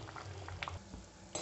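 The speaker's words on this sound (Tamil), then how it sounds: "ரசம் இந்த அளவுக்கு கொதிக்க ஆரம்பிச்சதும் நம்ம ஸ்டவ் ஆஃப் பண்ணிடலாம்." Rasam bubbles in a pot on a kitchen stove, giving a faint, soft simmer with a few small pops and light clinks over a quiet background.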